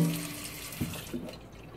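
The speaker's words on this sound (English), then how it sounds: "This will be 10 cups of water that we've dumped on this diaper." Water pours steadily onto a disposable diaper, producing a continuous close splashing and gushing wash of sound with a couple of small bumps.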